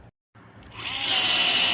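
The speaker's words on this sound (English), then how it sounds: "drill that, another rivet in," Power drill boring a hole for a rivet in a Carefree of Colorado awning, a brief pause, then the motor whines up and holds a rising high-pitched drilling tone.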